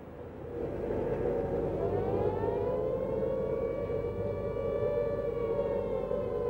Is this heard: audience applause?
no